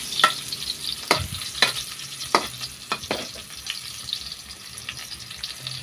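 Smoked fish (tinapa) sizzles in a pan while a utensil stirs and scrapes it, sharp clinks and scrapes standing out at irregular intervals over a soft frying hiss.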